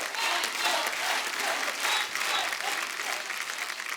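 Loud, dense applause from a studio audience at a Hindi comedy talk show, a steady wash of many clapping hands greeting a guest singer, sustained and continuous throughout.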